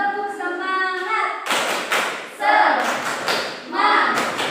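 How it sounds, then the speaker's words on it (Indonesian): A school class doing a rhythmic clapping chant, with sharp claps and thumps in quick patterns mixed with voices chanting together, close and fairly loud. "Yuk, tepuk semangat."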